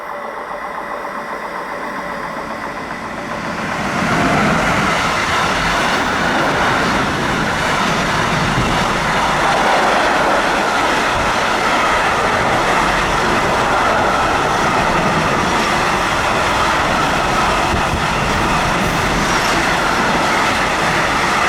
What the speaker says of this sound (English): Approaching, we have at quite a bit of speed a very nice Siemens Vectron class 193, number 503, and operated by PKP Cargo